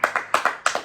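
A handful of sharp hand claps from a small group at an acting school review, about six distinct claps in an uneven rhythm, close and clear with no talking.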